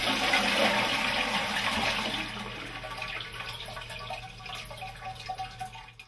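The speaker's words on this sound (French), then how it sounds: "il faut actionner la chasse d'eau pour vider le réservoir" A household toilet is flushed to empty its cistern: a loud rushing gush of water that gradually subsides into trickling and dripping as the tank drains, close by with no talk.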